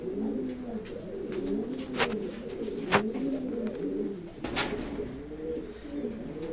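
Racing pigeons, a male and female pair, coo steadily in a loft, with repeated soft rolling calls close by and a few sharp clicks or taps scattered through.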